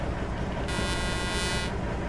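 A Mercedes-Benz Axor truck horn in Euro Truck Simulator 2 sounds one sustained, bright blast lasting about a second over a continuous low engine idle.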